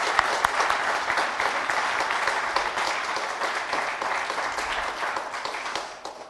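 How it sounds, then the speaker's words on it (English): An audience gives a sustained round of applause for the evening's speakers at an innovation event, dense clapping filling the room steadily for several seconds before tapering slightly at the end. "what I would like to do is get a round of applause for these great"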